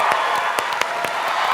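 Audience applauds an introduced executive producer and director at a Smithsonian Associates event about The Walking Dead, with dense, steady clapping and a few sharp louder claps and cheers throughout.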